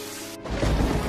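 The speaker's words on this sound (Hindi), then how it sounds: "हे भगवान, इतनी तेज बारिश।" Heavy rain on a rural farm during a cold-weather storm, a sudden dense rumbling roar that swells in and stays loud and steady, with thunder mixed into the downpour.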